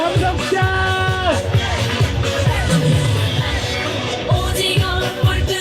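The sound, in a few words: crowd shouting at a candlelight rally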